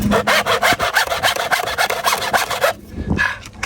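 Quick rasping strokes of a handsaw cutting through material at a duck pond build, near and loud in a steady back-and-forth rhythm that stops near the end.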